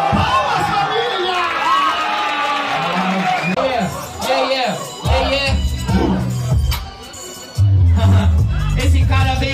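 Crowd at a rap battle cheering, whooping and clapping, loud bursts of shouting and applause that swell and drop, with voices speaking over parts of the noise.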